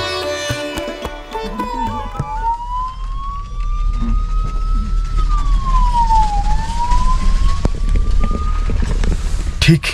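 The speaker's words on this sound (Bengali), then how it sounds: "আজ অবশ্য জানি না এখানে কি জন্য অ্যাম্বুলেন্স গেল" An ambulance siren wails with slow rising and falling sweeps as it passes on the high mountain road at Khardung La, loud and fairly close, over engine rumble and wind noise.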